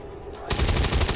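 Rapid automatic gunfire from a co-op video game erupts suddenly after a quiet moment, a loud, dense burst of closely spaced shots filling the rest of the short clip.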